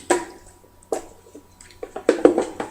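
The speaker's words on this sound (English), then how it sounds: "you're just going to pour your ingredients, your puree, onto the dehydrator sheet" Fruit puree for fruit roll-ups is poured and scraped onto a dehydrator sheet, giving soft wet squishes and drips in a few separate bursts that build into a denser run of splats near the end.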